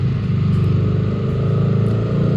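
A Yamaha R15 V4 motorcycle with a muffled exhaust runs close by at a steady idle, giving a low, even, throbbing pulse for the whole stretch.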